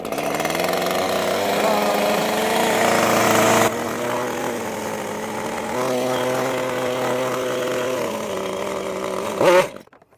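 A chainsaw engine catches after the choke is pushed in and runs at a steady buzzing idle for several seconds, close by, then ends with a brief louder rev.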